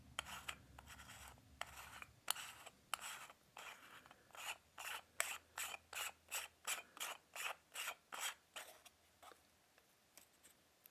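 A Waka MC 52mm UV filter being screwed onto a Nikon 55-200mm VR2 lens, a faint run of fine, quick ratcheting thread clicks that settles into a steady rhythmic series before stopping, close and quiet with no talk.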